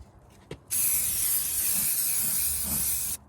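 A spray can of primer-and-paint hisses in one sustained, close, loud burst of about two and a half seconds as it coats a small wooden free library, preceded by a faint click.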